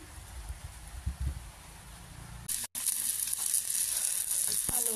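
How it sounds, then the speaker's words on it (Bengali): Potatoes coated with turmeric fry lightly in oil, a steady close sizzle that starts abruptly and grows louder and brighter, with a brief clink near the end. "এগুলোকে একটু হালকা ভাজি করব তেলের ভিতরে"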